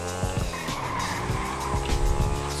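Super fast motorcycle tearing down a road in GTA 5, a loud, continuous engine roar with fluctuating pitch and repeated shift-like bursts, steady throughout.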